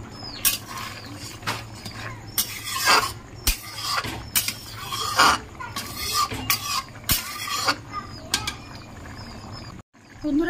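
Paneer and pea curry is scraped and stirred in a pan with a spatula, producing repeated loud rhythmic scraping and clattering strokes close by, with brief pauses and no speech.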